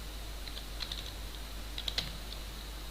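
Keys clatter on a computer keyboard as code is typed, brief clusters of crisp clicks with pauses between them, close and fairly quiet over a steady low hum.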